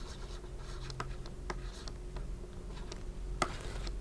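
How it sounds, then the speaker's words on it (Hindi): Chalk or marker writing a statement on a classroom board, with faint irregular taps and short scratchy strokes over a quiet room hum. "मैं एक स्टेटमेंट लिखता हूं"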